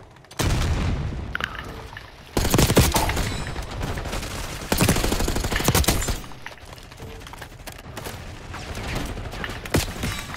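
Rapid weapon fire in the Black Ops 6 beta shooter game, loud sustained bursts of automatic gunfire with heavy booms, dense and continuous across several seconds.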